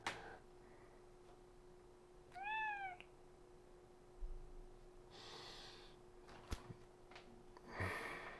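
A cat gives a single short, rising-and-falling meow, fairly close and clear, against a quiet room with a steady low hum and a few soft snorts and breaths afterward.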